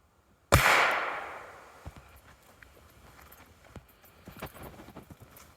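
A single sharp, loud gunshot from a .38 Long Smith & Wesson handgun fired at body armor cracks out nearby and rings off, followed by faint footsteps and small scuffing noises.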